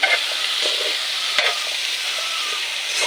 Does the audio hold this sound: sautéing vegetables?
yes